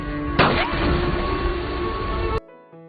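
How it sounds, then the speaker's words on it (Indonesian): A gunshot in a dramatic film scene, one loud sharp crack bursting over a dense, sustained music or ambience bed that cuts off abruptly near the end. "tiba-tiba Everaldo menembaknya hingga ia jatuh ke dalam sungai"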